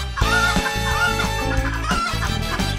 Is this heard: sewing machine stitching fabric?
no